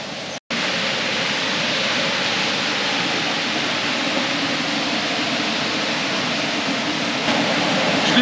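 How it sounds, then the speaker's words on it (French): Mountain torrent in the Écrins national park, a loud, steady broadband roar of rushing water filling the whole stretch with no break except a brief dropout near the start. "il faut couvrir le bruit du torrent"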